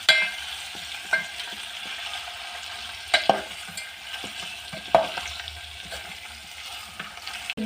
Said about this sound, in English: We're going to fry the meat till it turns brown.